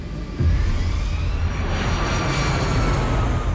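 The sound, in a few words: Airbus A320 jet airliner taking off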